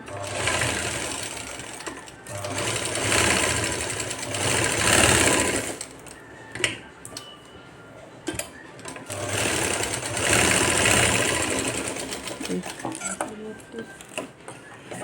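A sewing machine stitching the shoulder seam of a blouse, loud close whirring in two long runs separated by a short pause with a few clacks, with someone talking over it.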